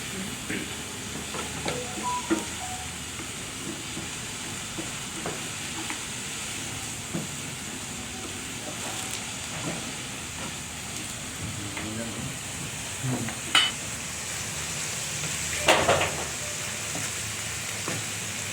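Chicken sizzling in a pan as it is fried and stirred for a pizza topping, a steady hiss with occasional scrapes and clinks, fairly close and continuous.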